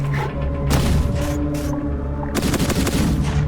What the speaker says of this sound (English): Another hiding person with a shotgun. I think the shotgun is an auto shotgun.